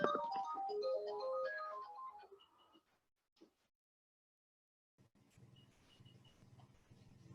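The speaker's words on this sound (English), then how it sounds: "My phone's been ringing off the hook." A phone ringtone plays a bright, looping melodic tune for a couple of seconds, then cuts off into silence before a low hum and faint clicks resume.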